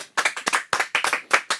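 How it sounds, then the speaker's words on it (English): A class of young children clap together in a classroom during a shared reading lesson, a lively burst of uneven, overlapping hand claps lasting under two seconds with no voices. "Give a clap for Maftanga."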